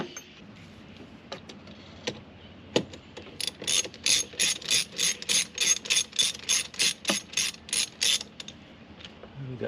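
Ratchet fitted with a long extension loosening an 8 mm air-intake hose clamp on a Kia Soul, giving a steady run of about fifteen sharp, close clicks after a few scattered taps and knocks.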